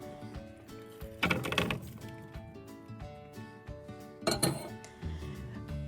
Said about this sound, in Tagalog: Then, ita-transfer na natin to sa isang baking pan.